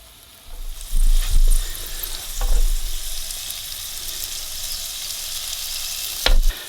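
Pork and chive dumplings frying in a non-stick pan, a steady close sizzle with louder bursts of spattering and stirring in three distinct swells.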